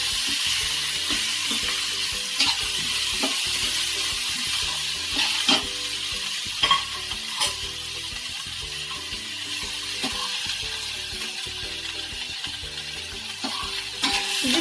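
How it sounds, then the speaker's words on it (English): Beans and corn being stirred together in a hot pan, with a continuous loud sizzle of frying and repeated scraping strokes of the spoon, no talking. "And now we have to mix them very well."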